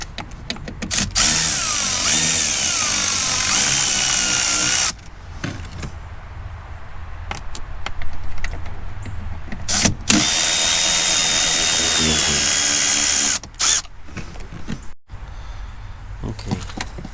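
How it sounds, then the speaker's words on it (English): A power tool zips loose the two bolts holding the drain bucket on a Porsche Cayenne S 958 with the 4.8L engine, in long loud whirring bursts broken by short pauses and clicks. "So let me take those 2 bolts and remove this bucket thingy."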